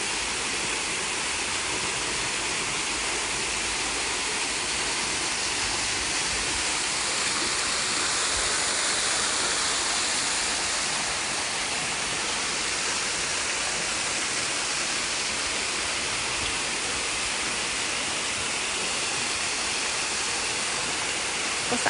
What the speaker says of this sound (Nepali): कस्तो राम्रो है यो पानी बगिरहेको छ